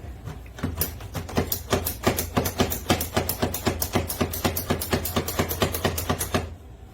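A Pampered Chef hand-plunged food chopper dices an onion with a fast, steady run of sharp plastic clacks, about three per second, close and fairly loud, continuing for several seconds before stopping abruptly.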